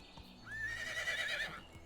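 A horse whinnies in the medieval farming game Medieval Dynasty, a single rising, sustained neigh heard up close and fairly loud, alone without talk.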